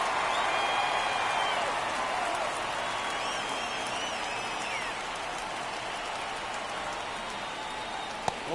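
A baseball stadium crowd at a Diamondbacks–Mariners game cheers in a broad, steady roar that eases slightly as it goes on, with no clear single voices.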